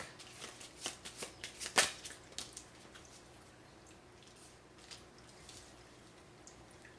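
A tarot card deck being shuffled up close, with a run of quick riffling and slapping bursts that peak in a sharp snap and then fade to near quiet.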